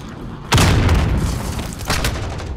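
A grenade goes off in a military shooter game at a construction site, a loud sudden boom with a rumbling tail, followed by a second smaller blast a moment later.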